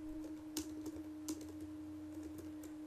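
Rapid, uneven keystrokes on a computer keyboard as C# code is typed, sharp clicks with brief pauses over a steady low electrical hum, close and fairly quiet.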